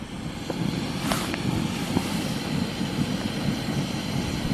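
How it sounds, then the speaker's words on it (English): Jetboil camping stove burning at a solo winter wild camp in the Brecon Beacons: a steady, close, continuous roaring hiss with no talk over it. "Jet boil's on the go."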